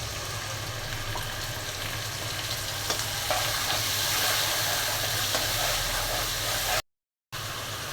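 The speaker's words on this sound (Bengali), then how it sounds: "এখন অল্প করে পানি দিয়ে মশলাটা কষিয়ে নেব।" Spiced masala of turmeric, chili, coriander and cumin powders with salt cooks in a pan with a splash of water, giving a steady close sizzle and hiss with stirring scrapes before a brief dropout near the end.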